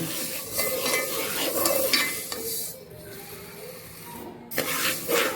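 Moong dal, half a kilo of split green gram for laddoos, dry-roasting in a pan with steady scraping and rubbing strokes of stirring, close and moderately loud, with a brief quiet gap before the stirring resumes.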